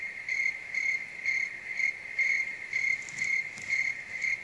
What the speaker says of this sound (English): Insert crickets in editing.